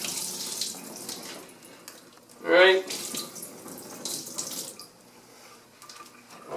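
Water from a home aquarium drains out of a siphon hose, a soft steady trickle with one louder gush partway through, while someone speaks briefly.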